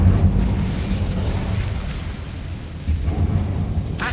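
Incendio fire spell blast in Hogwarts Legacy: a rumbling, booming whoosh with crackling texture, loud at the start, easing, then swelling again with a sharp burst at the end.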